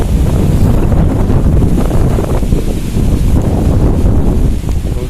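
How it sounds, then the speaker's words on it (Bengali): Strong cyclone wind from Cyclone Remal roars steadily and loudly across the microphone for the whole stretch, a dense buffeting rush with no voices. "প্রচন্ড বাতাস, মোটামুটি দোকানপাট সবই ঠিক আছে"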